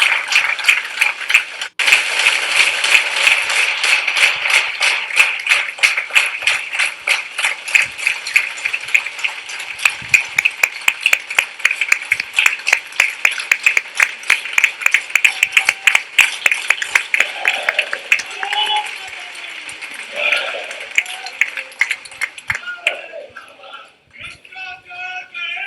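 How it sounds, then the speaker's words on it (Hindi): Dense, sustained crowd applause at an Aam Aadmi Party National Council meeting in 2022, many hands clapping rapidly and loudly for the party's national president, continuing for a long stretch before thinning out near the end. "सो एक बार मैं चाहूँगा एक ऐसी ताली बजनी चाहिए हमारे राष्ट्रीय"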